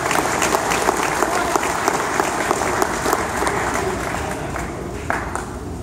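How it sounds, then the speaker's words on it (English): Loud, sustained applause from a crowd at an Oktoberfest gathering for Angel Martinez, a thick wash of many clapping hands that carries on steadily and eases only slightly toward the end. "can I still ask for a round of applause for Angel Martinez?"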